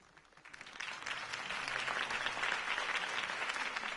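A crowd bursts into applause at a Harvey Dent campaign rally in the Batman Telltale video game, clapping swelling from quiet to a sustained, dense roar of many hands that holds steady to the end.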